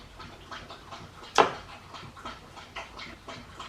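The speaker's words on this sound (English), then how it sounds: "The dogs are having a drink." Dogs lap water in quick, rhythmic slurps, fairly close and soft against a quiet outdoor background, with one louder splash partway through.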